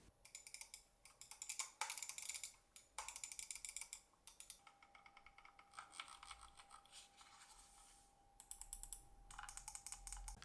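Quick, light clicking from a gaming computer keyboard with gradient keycaps, typed in bursts with short pauses between runs, close and fairly quiet, with no talking.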